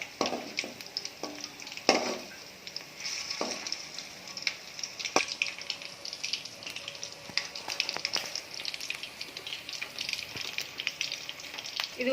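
Chicken 65 pieces frying in hot oil give a steady, moderately close sizzle that crackles on throughout, with a few brief clinks of a utensil and no talking.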